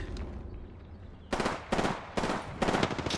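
Automatic gunfire in the Apex Legends video game comes as four loud, sharp bursts in quick succession after a quieter stretch of ambient game noise.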